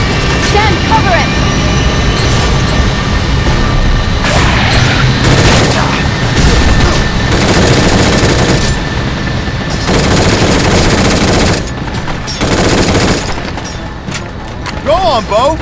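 Sustained automatic gunfire in the video game Binary Domain, loud and dense, with heavy bursts and booming impacts over a constant battle rumble, pausing briefly near the end before resuming.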